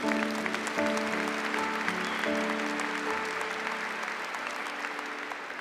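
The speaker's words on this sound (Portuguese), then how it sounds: "eu queria que você aplaudisse esse cardeal da Santa Igreja." A church congregation applauds a cardinal, with sustained clapping from a large crowd alongside steady organ or keyboard tones, slowly easing in loudness.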